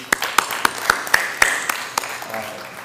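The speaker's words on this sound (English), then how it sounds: "a round of applause for our panelists, please" A few distinct hand claps for panelists at a conference closing session ring out at a steady rhythm, fairly close, over a faint murmur of background voices.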